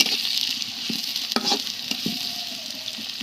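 Chopped onions and green chili frying in a pan, a soft, steady sizzle broken by a few clacks of a utensil stirring.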